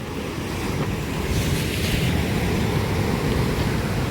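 Stormy sea surf rolling and breaking on a shore, a steady roar of waves and spray with wind noise buffeting the microphone throughout, no voices.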